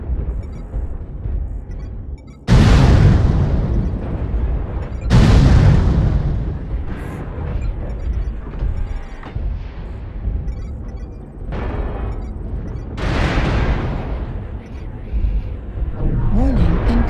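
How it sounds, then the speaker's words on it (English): Artillery strikes in a video game bring several heavy explosions, each a sudden loud boom that fades into a long rumble. Spoken alerts and low background noise sit between the blasts. "Artillery strike online."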